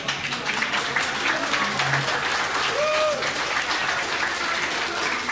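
Studio audience applauding a woman on a Polish TV talk show, steady dense clapping throughout with a brief faint tone rising through it.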